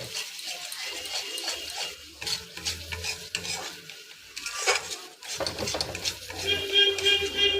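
Cashews going into a cooking pan and being stirred, heard as close, intermittent scraping and clattering stirs over a faint sizzle, fairly quiet and with no voices.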